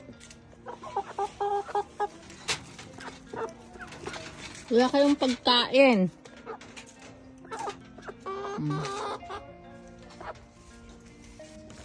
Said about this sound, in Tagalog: Tapos may manok dito.